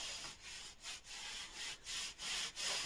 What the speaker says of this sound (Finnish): kuinka hyvin tämmöisellä sahalla saa tätä ekovillaa sahattua